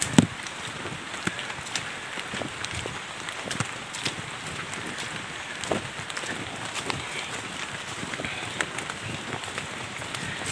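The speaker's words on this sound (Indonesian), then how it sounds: "Ini tadi dalam perjalanan hujan lokal namanya ya." Local rain falling during a drive through forest, heard as a steady patter with scattered sharp drops striking the vehicle, fairly faint and continuous throughout.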